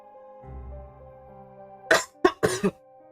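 A person coughs, two or three sharp close bursts following a soft low murmur, in a quiet room during a tabletop game session.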